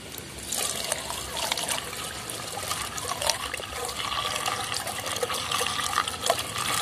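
Water pours steadily into a snow foam tank for motorbike washing, a close continuous trickling, splashing stream with small gurgling fluctuations and no talk.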